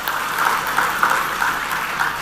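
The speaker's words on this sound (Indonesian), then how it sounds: "Berikan tepuk tangan untuk TNI dan Polri kita." An audience of provincial officials at an Islamic lecture in Banten gives a sustained round of applause for the military and police, a steady wash of clapping in a large hall.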